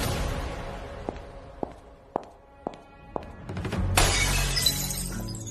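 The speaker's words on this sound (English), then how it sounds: "Behind me came the sound of Quentin smashing a glass" Glass is smashed indoors, with a loud shattering burst and scattering shards near the end, after several sharp taps like footsteps on a hard floor.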